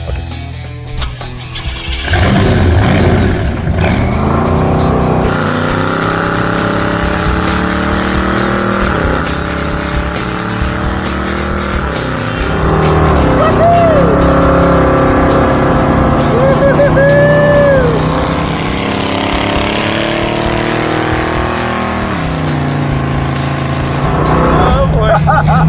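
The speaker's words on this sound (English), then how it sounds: "More burnouts and go home?" A hot rod with a big engine crammed into a small car doing burnouts, loud revving that climbs and falls repeatedly over a long stretch, with tire squeals and people talking over it.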